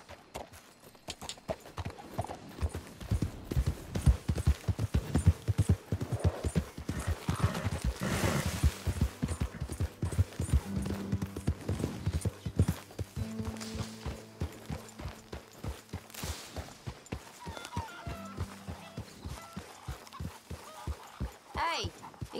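Horse hooves clip-clop in a rapid, steady rhythm in Red Dead Redemption 2, fairly close and loud throughout, with game voices talking over parts of it.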